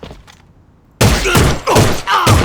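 An M16A2 rifle firing in the online shooter A.V.A: after a quiet lead-in, loud sharp gunshots burst out in quick succession, with a brief pause before another volley.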